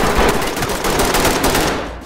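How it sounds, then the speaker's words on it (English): Rapid gunfire in a tactical shooter video game, aimed at a suspect, comes as a loud, continuous burst of shots lasting about two seconds before fading slightly at the end, with no talk over it. "I shot him 10 times"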